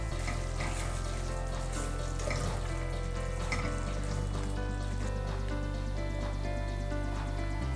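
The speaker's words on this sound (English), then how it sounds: "This will simmer for just a few." A family-dinner dish simmers in a pot with a steady, continuous sizzle and bubbling. The sound is fairly loud and close, layered over a constant low tonal hum.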